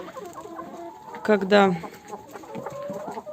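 Laying hens with laryngotracheitis, sick and sneezing, cluck in a coop at evening feeding, a short louder burst of clucking rising over low background fowl noise, with someone speaking briefly.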